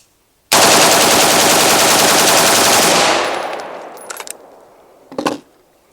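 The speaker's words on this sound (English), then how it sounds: "First, we're going to shoot it unsuppressed, and then we'll put the Tisha on and shoot it suppressed." An unsuppressed 5.56 rifle fired in one long, very loud continuous automatic burst lasting a few seconds, followed by the echo dying away, a few light metallic clinks and a brief thump.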